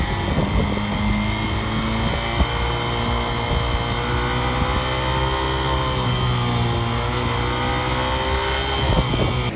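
An Atlas Honda motorcycle engine with about 1,400 km on it revs up and down repeatedly, RPM exceeding its limit, pitch sweeping higher and lower over a steady mechanical drone, close and loud with no talking.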